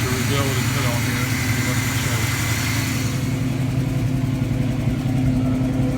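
Steady idle of a 1981 Chevy K5 Blazer 4x4 engine fitted with a rebuilt Carter carburetor and no choke, a loud, close, continuous rumble that holds even throughout, with a voice talking over it.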